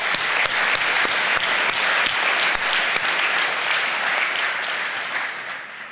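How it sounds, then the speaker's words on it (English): A meeting audience gives a round of applause, with sharp individual claps standing out near the start before the clapping thins and fades toward the end. "One more round of applause for them."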